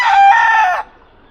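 A rooster on a Filipino poultry farm gives one loud, close crow lasting under a second, then it breaks off into near silence.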